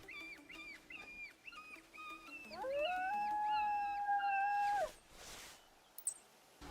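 A wolf pack howling in the hunting game theHunter Classic, with several short yips leading into long, overlapping howls that hold and waver before fading, heard at a moderate distance with no talking.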